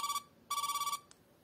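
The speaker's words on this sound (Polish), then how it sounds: "ktoś do mnie dzwoni" A phone rings with an incoming call, giving a rapid electronic trill in two bursts, a short one and then a longer one, close and clear with no talking.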